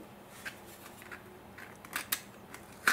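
A knife cuts off excess material from a pine wood project, producing a few faint, short snips and slicing clicks at irregular intervals, the loudest near the end.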